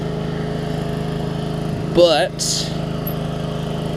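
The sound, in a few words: Hyper Tough push lawn mower engine running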